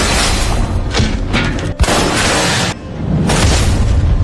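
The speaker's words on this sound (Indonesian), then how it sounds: "John mengisi senapannya lalu menembak Cabi tepat di kepalanya" Heavy booming gunfire and impacts from a sniper-rifle action film, loud and dense, with a dull thump near the middle and a brief drop before the roar returns.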